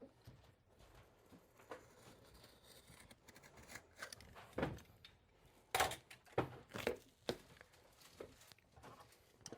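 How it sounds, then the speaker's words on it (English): Scissors snipping through the stitching on a shoe sole, a few sharp, close clicks and cuts spread unevenly over a quiet rustling background, clustered mostly in the second half, with no talk. "Then we just cut all those stitches."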